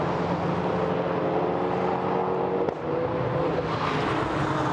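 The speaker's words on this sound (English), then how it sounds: "Cars powering their way down once more towards Hawthorns" GT4 race cars at Brands Hatch make a steady, droning engine roar from a distance. It holds without pause for several seconds and fades slightly near the end, with no talking.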